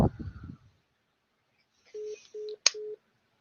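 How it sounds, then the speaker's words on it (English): A phone on a livestream gives three short, even ringing tones at a steady rhythm, clear and close, with a brief click between the second and third; a voice speaks just before. "I'm going to get a phone call in the middle of my live."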